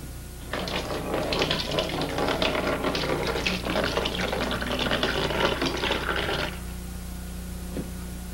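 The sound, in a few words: beer siphoned from carboy into primary fermentation bucket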